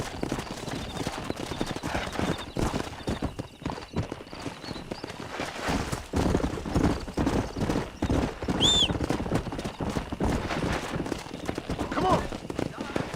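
Steady clip-clop of horse hooves while riding in an open-world western video game, rhythmic and continuous under game ambience, with someone talking over it and a short whistle-like tone midway.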